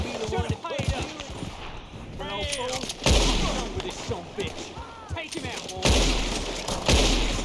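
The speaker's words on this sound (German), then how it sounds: "Oh, ich schieße auf den Stamm daneben." Gunshots in Red Dead Redemption 2, several loud sharp cracks spaced a couple of seconds apart, ringing out amid ongoing game sounds while people talk in the foreground.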